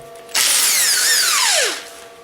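A power tool, an impact driver, spins out tight bolts on a car's oil sump in one loud, sustained whir of about a second and a half whose pitch sweeps down as the bolt frees, then cuts off.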